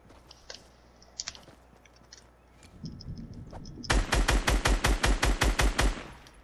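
Video game gunfire from a first-person shooter: quiet scattered noises at first, then a loud, close burst of rapid automatic fire with about a dozen evenly spaced shots in the final seconds, with no voices.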